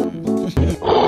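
A tiger's roar, one short, loud, rough burst that swells and breaks off within about a second, heard alone and close.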